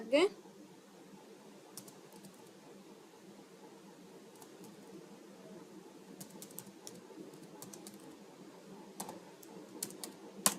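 Keys are typed on a computer keyboard in short bursts of soft clicks, faint and fairly close, scattered over a low steady room hum.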